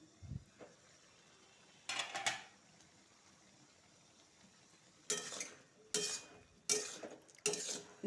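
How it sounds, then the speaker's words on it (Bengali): A spoon stirs a vegetable curry of ridge gourd and potato in a pan, a handful of short scraping clatters spaced apart, close and fairly quiet with near silence between strokes. "ভালো করে লাড়াচাড়া করবো"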